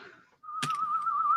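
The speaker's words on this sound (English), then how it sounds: "Now he can hear us and he's whistling." A person whistles a single sustained, wavering note alone, cut by a brief knock partway through, following a short quiet gap.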